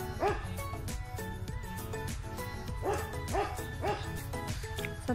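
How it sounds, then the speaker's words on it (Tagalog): A dog barks several times in short yips at a port during an island-hopping trip, with music and background chatter running underneath. "May aso."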